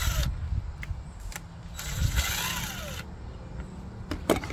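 A socket wrench ratchets bolts out of a Tohatsu 9.8 hp outboard motor during a water pump replacement, giving short clicking bursts with metallic handling noises and a quiet background.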